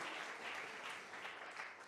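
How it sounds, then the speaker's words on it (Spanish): A church congregation applauds during a sermon, a soft, dense wash of many hands clapping together, distant and continuous with no talk over it. "Fuerte ese aplauso a nuestro Dios en esta tarde."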